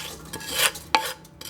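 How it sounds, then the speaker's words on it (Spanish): Oil flavoured with lemon peel and anise is poured through a strainer into a pot, heard as brief metallic clinks and scrapes with a soft splashing trickle, close up and without talk. "vamos a coger con ayuda de un colador y lo vamos a pasar a una olla"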